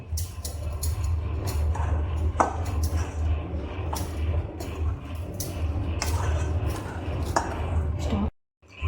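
Red masala being stirred into a mixture with a spoon, giving a steady run of scraping and clinking knocks against the bowl for several seconds while a person talks, then a brief stop near the end.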